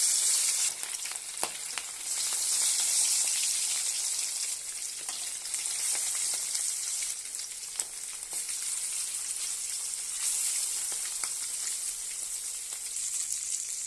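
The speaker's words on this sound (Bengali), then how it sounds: "তেলটা ভালো করে গরম করে নিয়েছি এখন মাছগুলো দিয়ে দেবো" Fish frying in hot mustard oil in a home kitchen, a dense continuous sizzle and crackle with occasional sharper pops and spatters, steady and close throughout with no talking.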